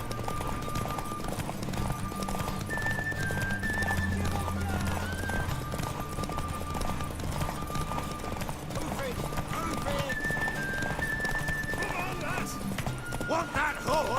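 Rhythmic clip-clop of horse hooves in The Witcher 3: Wild Hunt runs throughout, with a whinny and game music layered underneath, steady and close.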